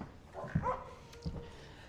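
Dogs bark inside a five-bedroom Wichita home, two short, close barks spaced about a second apart with a faint whimper between them.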